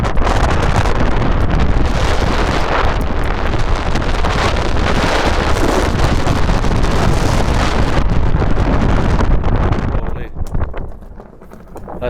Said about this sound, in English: that's pretty windy